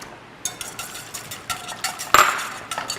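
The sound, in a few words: whisking Parmigiano Reggiano cheese into Alfredo sauce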